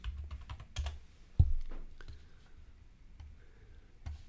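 Keys clatter in quick bursts of typing on a computer keyboard, close and fairly quiet, with a louder key press partway through and pauses between.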